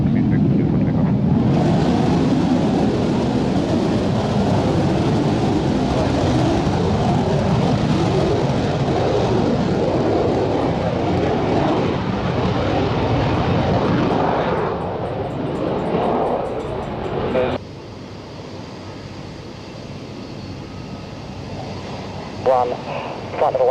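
A German Air Force aircraft takes off from runway 27, a loud sustained roar of jet engine power close by that swells and holds for about fifteen seconds, then drops away to a quieter rumble, with radio talk over it.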